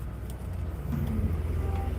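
A van idling at a stoplight, steady low engine rumble with faint rattling inside the cabin, continuous and close with no voices.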